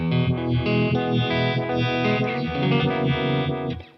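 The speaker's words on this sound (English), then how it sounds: "now I've got a nice lush rotary sound going" Electric guitar played through a Kingtone Vibe 1968 pedal, chords swirling with a lush rotary, pulsing modulation, slightly overdriven and steady for several seconds before cutting off.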